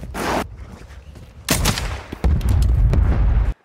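Sniper rifle shots ring out in a first-person shooter game, with a sharp crack early, a second loud report mid-way, then a sustained burst of booming gunfire before cutting off.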